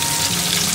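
Fresh rohu fish frying in oil in a pan, giving a steady, close, dense sizzle and crackle with no pauses.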